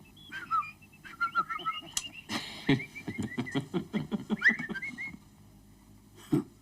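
A music box plays a thin, high whistling tune in short chirpy phrases over soft, irregular mechanical clicks and taps, fairly quiet and close.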